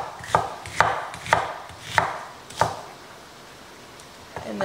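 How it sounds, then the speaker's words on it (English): A knife dices skinned vegetables on a cutting board, five sharp, close chops at an uneven rhythm, then a pause before another soft knock. "I'm just going through and dicing them."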